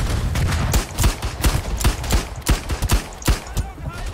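Gunfire from the World War I shooter Verdun cracks in scattered, irregular shots, some near and loud, others overlapping into a ragged volley over several seconds.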